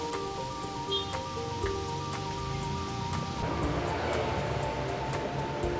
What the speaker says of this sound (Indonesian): air yang keluar dari selang itu seolah-olah hujan